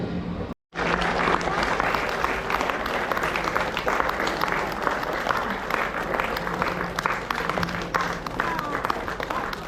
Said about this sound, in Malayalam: എല്ലാവരും കൈയടിക്കണം കേട്ടോ.